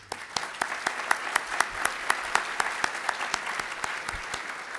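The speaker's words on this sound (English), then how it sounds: "please join me in giving one more round of applause for our award recipients" An audience at a city luncheon claps for award recipients, a dense round of applause with sharp individual claps in a steady rhythm, fairly close and continuous.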